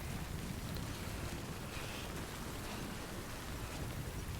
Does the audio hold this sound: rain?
yes